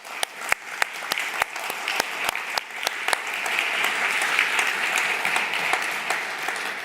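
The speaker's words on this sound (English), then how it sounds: "Join me in welcoming them into the partnership with a round of applause." Conference audience applauds new partnership members, steady clapping that builds from scattered claps into a sustained, fairly close round of applause.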